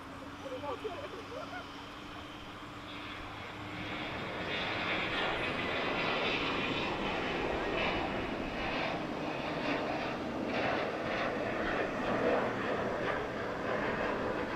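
A Frontier airliner jet taking off at DFW Airport, its engine roar building after a few seconds into a steady, loud broadband rumble that sustains to the end, with a person speaking over the start.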